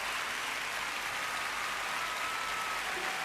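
Concert crowd applauding: a broad, even roar of clapping from a large audience, heard at a distance and without a break throughout.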